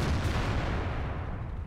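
A single tank cannon shot in the video game World of Tanks, a deep booming blast that rolls off and decays over a second and a half.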